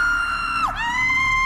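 A woman screams in fright in a horror film scene, a single sustained high-pitched cry that bends sharply downward midway, then holds steady and loud to the end.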